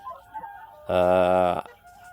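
A brown crossbreed hen from an Elba rooster and KUB hen lets out a single loud, drawn-out squawking cluck lasting under a second, with quiet surroundings before and after.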